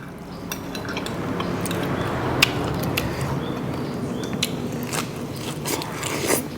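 Someone chews a meal of village chicken curry with glass noodles and a chili-powder dip, producing close crunchy bites and clicking, crackly mouth noises in a quick, uneven rhythm over a low background hum.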